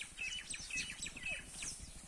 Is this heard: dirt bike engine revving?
no